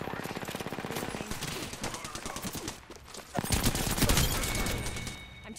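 Rapid automatic gunfire from a firefight in the battle royale game Apex Legends, with rattling bursts of fast shots and a louder heavy volley near the end.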